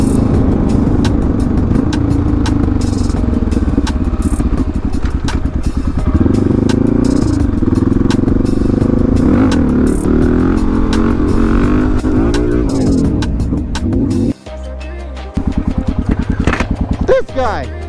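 A Yamaha FZ motorcycle rides past doing a wheelie, its engine revving and droning near and loud beneath close talk, briefly dropping out before returning.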